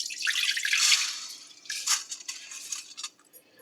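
Excess water drains from soaked basmati rice through a strainer, a close, trickling splash that fades into sparse drips.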